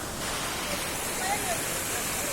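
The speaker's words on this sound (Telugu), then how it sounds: "ఇదిగోండి రివర్, అది ఇంక వెళ్తూనే ఉంది." A river rushing over rocks at Watkins Glen State Park in New York, a steady broad roar of flowing water, fairly close and continuous.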